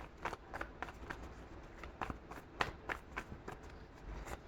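Tarot cards are shuffled in quick, irregular riffles and taps, close and fairly quiet, with no talking.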